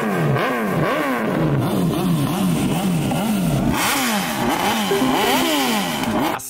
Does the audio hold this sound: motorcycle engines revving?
yes